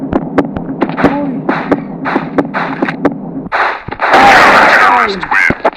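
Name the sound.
gunfire in a Counter-Strike-like video game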